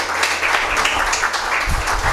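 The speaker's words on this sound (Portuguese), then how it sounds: "Vamos aplaudir a palavra de Deus." A congregation in church applauds with loud, close, continuous clapping from many hands throughout the short stretch.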